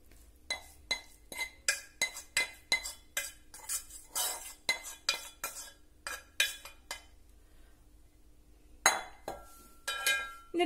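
A spoon mixing banana cutlet filling with coconut and sugar in a bowl, quiet repeated clinks and scrapes against the bowl in an irregular steady rhythm, close by, with a brief pause near the end.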